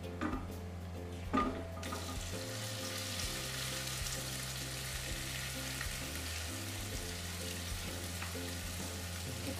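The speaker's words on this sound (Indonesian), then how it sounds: "kita tumis sampai harum dan bumbunya matang." Spice paste with ground ginger sautéing in a pan for spicy jengkol stew, a continuous loud sizzle and crackle with occasional stirring clinks near the start, steady and close.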